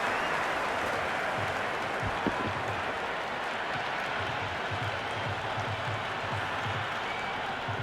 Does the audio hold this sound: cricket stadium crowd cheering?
yes